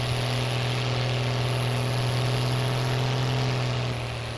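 Tractor engine in the Farming Simulator 19 video game, a loud, constant droning hum with a strong low tone and broadband noise, steady throughout with no talking.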